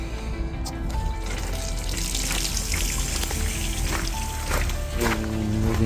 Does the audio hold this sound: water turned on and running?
yes